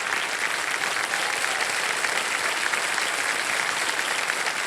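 Sustained, dense applause from a large studio audience at a televised quiz show taping, steady and loud throughout with no speech over it.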